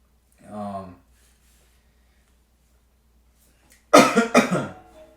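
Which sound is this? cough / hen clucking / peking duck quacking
cough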